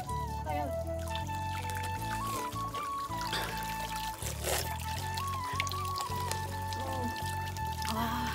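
Mountain spring water pours steadily from a hillside source in a rural village for drinking, a continuous splashing stream running under loud background music with a sung melody.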